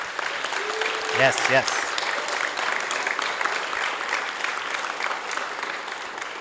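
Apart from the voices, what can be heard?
audience applause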